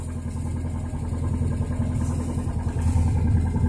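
A car engine runs at a steady low rumble as the clutch is released, rising slightly in loudness toward the end, heard close with no talking.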